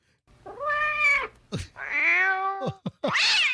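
A cat meows loudly and close up, with three long drawn-out meows separated by short sharp yelps, played as a soundboard effect.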